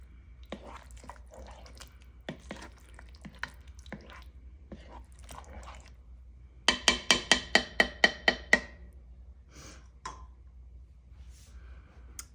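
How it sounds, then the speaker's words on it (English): Diced organic tomatoes are stirred into butter chicken in a pan, giving wet, squishy, scattered knocks, then a quick run of about nine sharp, evenly spaced taps in the middle, close and fairly faint over a low hum. "Stir that in."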